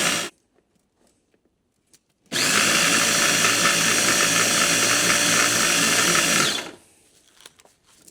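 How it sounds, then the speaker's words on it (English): Power grinder running steadily for about four seconds, loud and close, mixing beaver castor with a squirt of glycerin, with quiet handling noises before and after. "Grind that into it, just so it's mixed."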